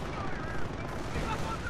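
Gunfire from battle in the video game Company of Heroes, a dense, continuous clatter of shots and rumbling explosions, loud and unbroken throughout.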